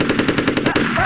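Rapid machine gun fire in the video game Conker's Bad Fur Day, a loud, fast, evenly spaced burst of shots close up, running for about a second.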